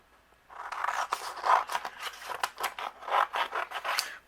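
Paper being trimmed for card making, a run of crisp, rhythmic snips and scraping cuts repeating steadily at close range, with no talking.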